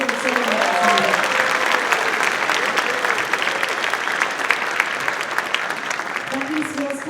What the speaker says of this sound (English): Can I get another round of applause for them?